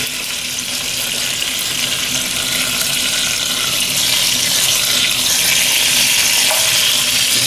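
Chicken frying in grease in a pot, a dense, even hiss and crackle that holds steady and close throughout, with no talking.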